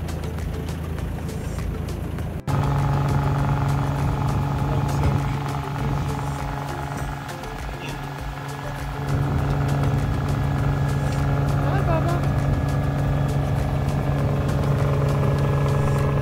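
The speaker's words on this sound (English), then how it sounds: "then fired up the engine for our last trek to the marina" Sailboat engine running steadily on the way to a marina, a loud continuous hum with a strong low tone that starts abruptly after a brief quieter stretch, with no one talking.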